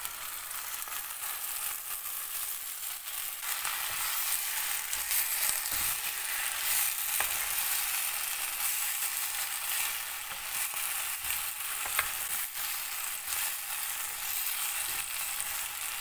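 Pennywort leaves (vallarai keerai) with their stems sizzle and fry steadily in a pan for a curry, a continuous close hiss and crackle that holds evenly throughout with no talking.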